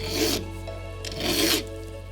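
A coarse file rasps across a brass clock pin held in a pin vise, cutting a bevel in two close, distinct strokes, each a dry gritty scrape, with a steady low hum underneath.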